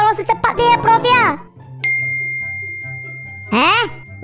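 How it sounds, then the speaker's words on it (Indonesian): A phone notification chime gives one clear, bright ding that rings out steadily for about two seconds. Animated, cartoonish voices talk before and after it. "Notifikasi apa ini?"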